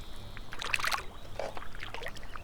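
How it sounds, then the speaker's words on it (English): Gentle water lapping at a lakeside on a peaceful morning, a soft continuous wash with small splashy ripples and faint bird chirps, quiet and close in an ambient outdoor recording. "Hear a couple birds, the gentle lapping of a lakeside."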